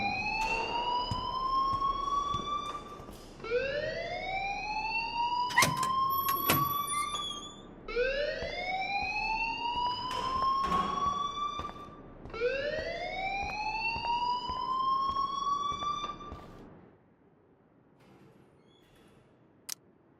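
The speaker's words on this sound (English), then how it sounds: "please turn off that alarm since that's your job" A school alarm in the video game Life is Strange wails in four rising, siren-like sweeps at an even pace, then cuts off, leaving near silence with a faint click.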